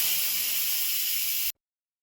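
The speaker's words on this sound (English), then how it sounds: "so let's quick release the steam." Steam hissing from an Instant Pot during quick pressure release, a loud steady close-up hiss that cuts off abruptly into silence.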